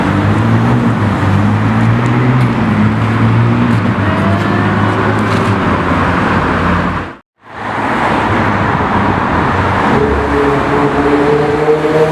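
A McLaren 600LT drives past with a continuous loud engine and road roar that cuts out to near silence for a moment midway, then returns just as strong.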